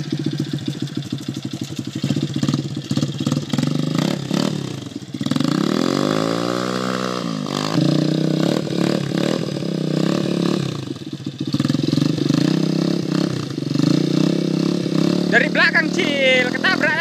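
Small mini trail motorcycle engine revving and idling while stuck in mud, pitch swelling and dropping with the throttle, close, with people talking over it.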